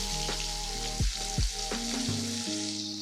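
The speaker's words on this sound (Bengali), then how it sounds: "এখন আমি এই যে হলুদ লবণ মেখে নিয়েছি মাছটা ভাজতে দিয়ে দিই।" Pomfret fish rubbed with turmeric and salt frying in hot oil, a steady close sizzle with occasional louder spatters and pops, and no voices.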